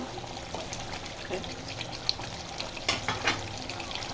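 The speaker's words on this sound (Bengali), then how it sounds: "এই তো আমি এখন আলুগুলো দিয়ে দিব" Potatoes go into a pan of chicken curry, giving a faint, steady sizzle with soft stirring and splashing sounds and a few light clinks, all low and close.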